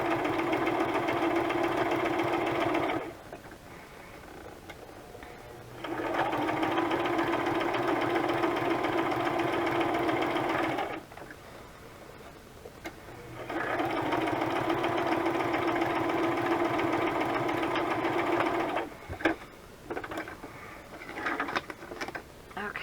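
A sewing machine stitches in three sustained runs, a loud, steady mechanical whirring hum that stops briefly between runs, followed by a few faint clicks and handling sounds near the end.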